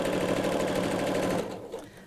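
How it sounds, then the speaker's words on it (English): Domestic sewing machine stitching fabric pieces right sides together, a fast, even mechanical whirr up close that stops near the end, leaving faint handling noise. "Sew these right sides together."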